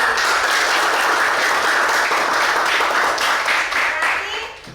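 Schoolchildren in a classroom clap together in a burst of applause, dense and close, fading slightly at the end.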